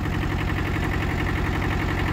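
A Kubota KJ11 Japanese mini tractor engine idles steadily, a close, even, throbbing diesel chug with a fast regular pulse and no talk.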